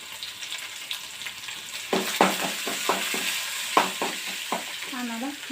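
Mustard seeds, cumin, garlic and curry leaves fry in hot oil, with a steady sizzle and sharp bursts of crackling and spitting, close and fairly loud.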